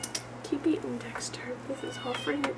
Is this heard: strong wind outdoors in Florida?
no